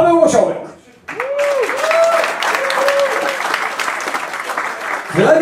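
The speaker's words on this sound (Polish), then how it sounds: "bardzo proszę też o duże brawa tych, którzy dzisiaj z Pawłem na tej scenie się pojawią" A concert crowd at a birthday show bursts into sustained, dense applause after a brief pause, loud and close, while an announcer's voice speaks over it with rising and falling tones at the start and end.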